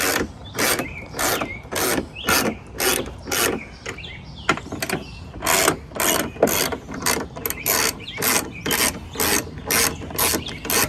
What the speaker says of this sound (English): You can use the 1/4" drive to move it faster if you need to, or even an impact tool would be fine, but we're not taking them all the way out.